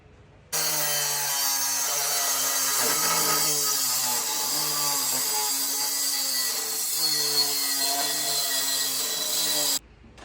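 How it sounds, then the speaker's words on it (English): A power tool saws steadily through a metal bracket for an International Travelall body swap, a loud harmonic whine held for about nine seconds with slight pitch dips as the blade bites, starting and stopping abruptly. "then cut this down the middle"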